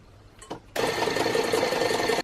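A hand or stand mixer whirs steadily for about a second and a half, beating gluten-free, yeast-free chocolate orange cupcake batter with orange zest in a mixing bowl, starting abruptly after a brief clatter and stopping just as suddenly.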